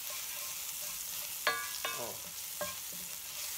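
Green loofah gourd sautéing in a little oil gives a steady, soft sizzle throughout, with a few sharp clinks of a utensil stirring the pan near the middle, close and without talk.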